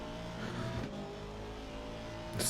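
An Audi race car in a racing video game holds a steady, fairly quiet engine drone at speed, which rises slightly at the end.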